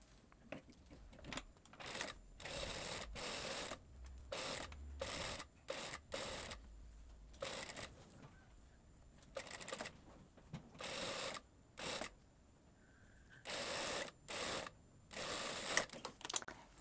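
A sewing machine stitches a ruffle onto the side of a blouse in repeated short bursts of rapid mechanical whirring, with brief pauses between runs, close and fairly quiet.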